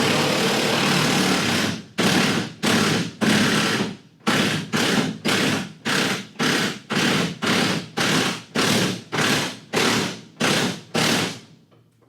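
Repeated heavy thumps while the tension pin on a farm machine's belt is loosened, about a dozen loud, evenly spaced blows after a steady noisy start, close by with no talking.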